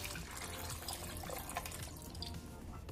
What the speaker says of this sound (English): And I'm gonna pour some water.